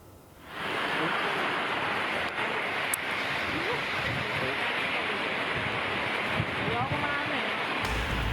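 A dense, steady roar of strong wind and heavy rain fills the scene after a quiet start, with faint voices now and then beneath it, in Mantren village during a storm that collapsed a wedding tent.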